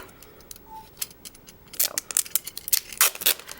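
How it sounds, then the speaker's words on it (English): Packing tape pulled off the roll while making a stencil craft with decorative paper, a few sharp crackling tears in quick bursts near the end, close and fairly loud, after a quieter stretch of small ticks and rustles. "take your packing tape"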